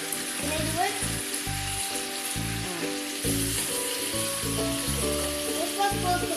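Chicken pieces for tinola hit a hot pan and are stir-fried, a close, continuous sizzle with bursts of scraping and stirring, while people speak quietly underneath.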